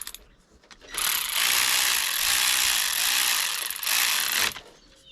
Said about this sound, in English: set the electric ratchet to tighten.